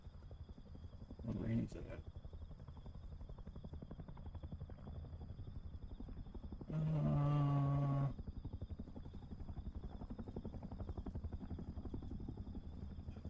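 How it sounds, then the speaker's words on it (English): A helicopter's rotor in the video game Rust thumps steadily throughout, a constant pulsing drone beneath people talking and brief game noises. "Helicopter."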